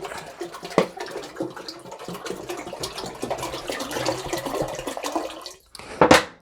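Filtered water pours steadily into a pot for a gallon of coffee wine, a continuous splashing rush that stops briefly before one last short, louder splash.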